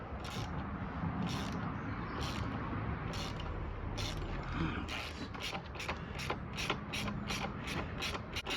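A ratchet works a stainless bolt loose from a bracket on a Yamaha Virago 250 motorcycle, sounding as close, quiet pawl clicks that start spaced out and then quicken into a steady rapid series.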